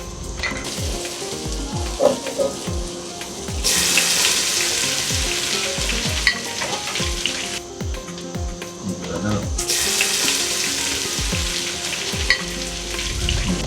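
Chopped tomatoes sizzle and fry with tuna in a hot pan, a steady loud crackle with bursts of stronger hissing and occasional stirring clinks, no voices.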